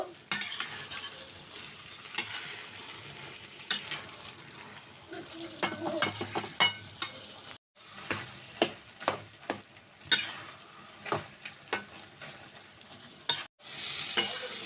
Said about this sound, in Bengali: টমেটোটা এখন একটু কষিয়ে নিব